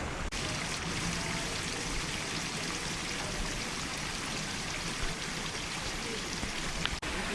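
Holy water flows steadily in Bali, a dense, continuous rushing wash like a stream, loud and unbroken from start to finish with no talk.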